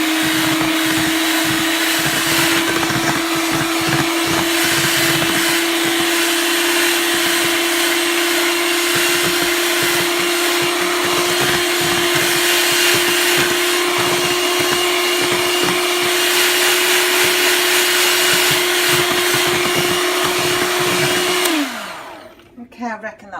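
Electric mixer whirring steadily and loud as it brings whisked eggs into apple and chickpea cake batter, a constant motor hum that runs alone for about twenty seconds before switching off abruptly.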